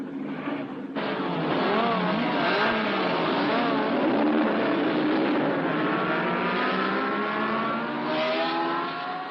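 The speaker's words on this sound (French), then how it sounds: "Toutes les voitures ont pris un excellent départ." Race cars at the start of a motor race roar away together, a sustained loud blend of revving engines that swells suddenly and holds steady with no talk.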